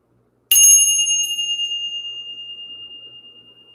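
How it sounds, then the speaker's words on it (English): A single bright bell strike rings out after a moment of silence, its clear metallic tone sustaining and slowly fading with a gentle shimmer. "Let's ring the bell, clear out this energy"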